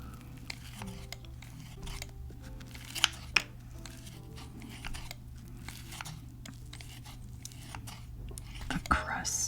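Raspberry truffle cheesecake being cut into pieces: soft scraping, tapping and crunching of crust against a plate, close and fairly quiet, with faint low voices now and then.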